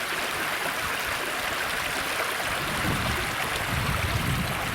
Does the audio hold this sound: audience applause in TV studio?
no